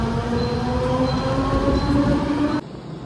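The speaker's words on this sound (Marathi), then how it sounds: "आली ट्रेन आली" A Panvel local train arrives with a close rumble, sustained tonal whine and hum, then the sound cuts off abruptly near the end.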